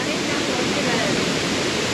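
La Paz Waterfall in Costa Rica, on the slope of a volcano, rushes with a steady, dense roar of falling water that fills the whole clip without a break.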